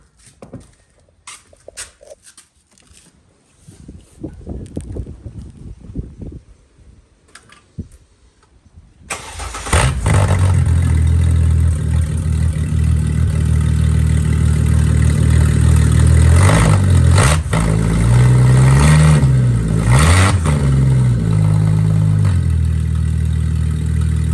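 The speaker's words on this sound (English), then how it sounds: "So as you've seen, it's all running well now. It responds with the accelerator like it should." A Ford XR6 Turbo Barra engine in a naturally aspirated-plus-turbo build, refitted with a new fuel rail, starts after some quiet handling noises and then settles into a loud, close idle, with a few throttle blips raising the revs mid-way.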